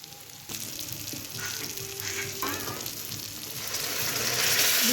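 Hot water is poured into fried spices in a pan for a bhetki fish curry, raising a rushing sizzle over steady frying hiss that grows louder toward the end, with a few faint voice-like tones underneath.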